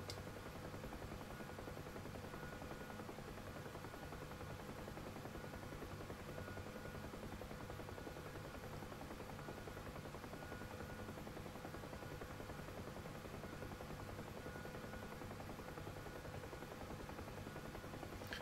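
Steady, loud rotor and turbine drone of a KA-50 helicopter in a VR flight video game, continuous and unchanging for the whole stretch with no talking.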